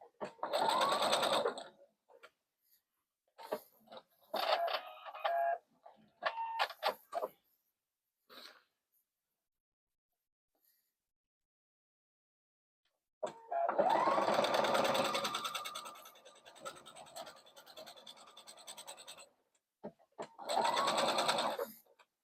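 Sewing machine stitching a tote bag in a few bursts: a brief run, a stuttering series of short stitches, then a long steady run and a final short burst, close and clear with quiet pauses between.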